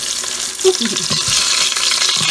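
Loud, continuous sizzling of turkey wings frying in hot oil in an Instant Pot, with occasional stirring scrapes and bubbling close by.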